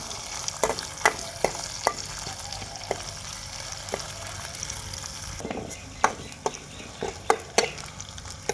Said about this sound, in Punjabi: ਥੋੜਾ ਜਿਹਾ ਗੰਡਾ ਭੁੱਜ ਗਿਆ ਫਿਰ ਆਪਾਂ ਟਮਾਟਰ ਪਾਵਾਂਗੇ